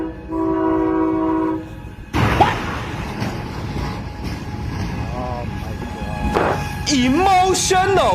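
A train runs along railway tracks past a car parked across the rails, with a loud horn blast at the start, then a heavy rumbling roar and clatter. Excited voices shout over the noise near the end.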